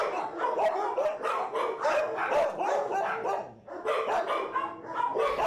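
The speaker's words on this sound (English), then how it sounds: "this wonderful dog, she is an Australian Shepherd and Border Collie mix" An Australian Shepherd and Border Collie mix barks on command, a close, loud run of rapid repeated barks and yips with a brief pause before another burst.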